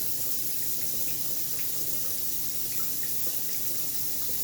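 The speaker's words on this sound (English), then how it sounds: "Turn my hot water on." Hot water runs from a kitchen tap into a sink, a steady, full hiss of flowing water that stays loud and unbroken throughout.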